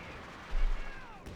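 Pak 40 anti-tank gun firing in Company of Heroes 2, a single heavy thump with a short rumbling tail over low battlefield ambience, with faint commentary-like voice traces nearby.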